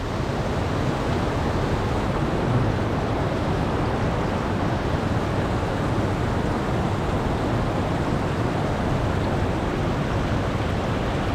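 A small waterfall cascades down a long series of rocks beside the Larch Mountain trail, a loud, steady broadband rush of water that never lets up.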